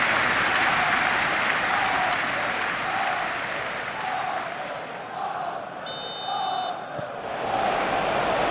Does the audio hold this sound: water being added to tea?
no